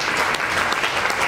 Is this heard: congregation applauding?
yes